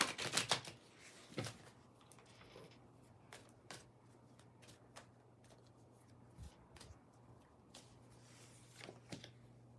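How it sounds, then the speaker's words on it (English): A past life tarot deck is shuffled by hand, with a quick flurry of card riffles at the start followed by sparse soft taps and slides, faint and close in an otherwise quiet room. "So we're going to shuffle these up."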